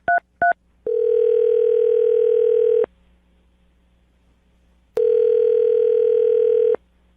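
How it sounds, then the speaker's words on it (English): Two quick dialing tones, then a steady electronic ringback tone that sounds twice with a silent pause between, clean and close. "I'm going to dial the phone number right now"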